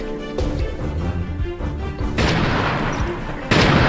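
Gunshot sound effects in a dramatized telling of a villager being shot in Indramayu, a run of loud sharp cracks and bangs layered over background music, with the heaviest blasts toward the end.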